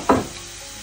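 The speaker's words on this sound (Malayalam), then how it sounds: "അപ്പം ഇതിനെ ജസ്റ്റ് ഒന്ന് വറുത്ത് ചിക്കൻ്റെ കൂടെ ഇടുമ്പോഴത്തേക്ക് ഒരു ടേസ്റ്റ് കൂടി കിട്ടും." A single short sizzling burst as ginger, garlic and chilli flakes masala hits hot oil for a Kerala-style chicken fry, close and brief, then quiet.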